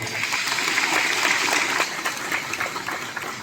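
Soft, continuous applause from a crowd at an annual Catholic men's assembly on the Saint Joseph feast, greeting the chief celebrant: a diffuse, hissing wash of many distant hands with no distinct individual claps.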